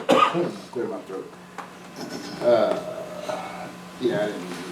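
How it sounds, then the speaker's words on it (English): One short cough-like throat clearing at the start, followed by a few softer throat noises, heard indoors in a meeting room with low-level talk and a steady hum behind. "Clear my throat."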